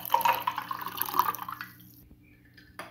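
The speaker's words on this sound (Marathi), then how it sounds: "यामध्ये आता आपण 1 ग्लास पाणी टाकूया।" Water poured from a glass into a lemon sherbet drink mixed with syrup and salt, a close splashing pour for about two seconds that trails off into quiet.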